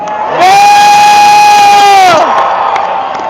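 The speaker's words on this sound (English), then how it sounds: "Let's give a cheer for every patriot who says they will not bow down." A rally crowd at a protest in Boston lets out a loud, sustained cheer with a bright whistle-like tone riding on top, swelling up and holding for a couple of seconds before fading back into crowd murmur.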